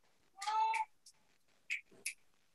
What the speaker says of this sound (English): And I'm sorry for my howling cat.